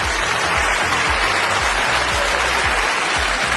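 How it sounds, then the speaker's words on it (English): Applause at a film festival premiere as the director comes on stage. The clapping is loud and continuous, and a low rhythmic thump runs underneath it. "Please join me in welcoming with a round of applause our brilliant director, Barry Alexander Brown."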